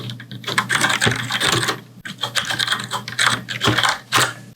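Fast, steady typing on a Cherry MX Board 3.0 mechanical keyboard with brown switches: dense, clacky keystrokes in continuous bursts, close up, with only brief pauses and no voices.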